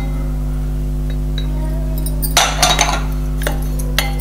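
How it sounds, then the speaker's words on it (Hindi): A spoon stirs amla pickle with turmeric, red chilli and salt, giving a short cluster of metallic clinks and scrapes against the vessel over a steady low electrical hum, with a couple of isolated taps afterward. "अब इसको अच्छे से मिक्स कर लेंगे।"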